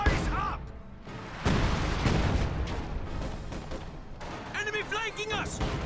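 Artillery fire support in a World War II real-time strategy game, with loud booming impacts and gunfire throughout, layered with battle noise, short shouted unit voice lines and tonal game alert chirps near the end.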